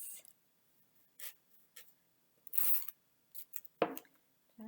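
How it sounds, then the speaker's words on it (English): Pieces of tape are torn and pressed down to hold paper stencils in place, producing a few short, quiet scratchy rips and rubs with pauses between them, close up. "put a few pieces of tape on the stencils to keep them in place"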